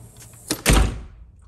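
An Andersen storm door swings shut, giving a soft rustle and then one solid, close thump that fades quickly into quiet.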